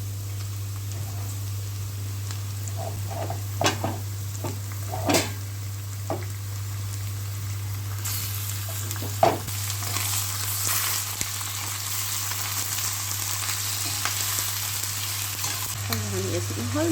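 Onions for chicken gravy fry in a pan until browned, a continuous close sizzle broken by occasional spoon scrapes and taps, with the frying growing brighter and hissier partway through; a steady low hum runs beneath.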